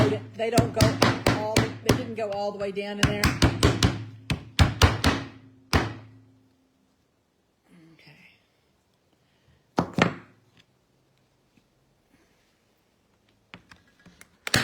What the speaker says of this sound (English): I knew I got my hammer out. And I'm just going to tap them down in there.